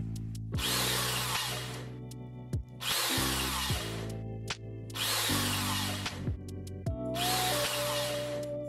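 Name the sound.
drilling holes in the lid and bottom of an airtight plastic box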